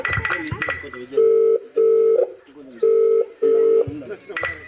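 A phone ringback tone repeats in four steady double pulses for an unanswered call, clear and close, with brief talk and rustling at the start and end.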